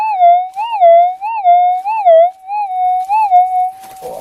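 A Minelab GPX metal detector signals a buried target in the Golden Triangle goldfields with a loud, wavering electronic tone that rises and falls in a steady repeating pulse, then settles and cuts off into faint rustling.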